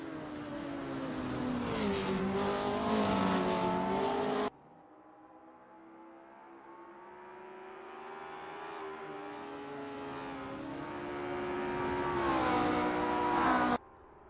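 A vintage Lotus 25 race car at Monza sounds as a loud, sustained engine note that rises in pitch, falls away in the middle, then builds again before cutting off abruptly, with no talk.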